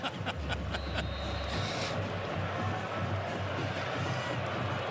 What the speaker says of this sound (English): Needed the crowd to get crazy. They're crazy now.